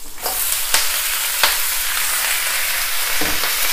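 Washed bok choy with garlic hitting a hot wok, a dense, loud sizzle throughout with a few sharp clatters of tossing and stirring, close and without talking.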